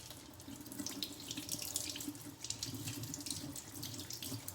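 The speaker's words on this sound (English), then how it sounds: "So I'm going to wash my potatoes." Steady stream of water running from a kitchen tap into a sink while potatoes are washed for French fries, a continuous even splashing rush heard up close with no voices.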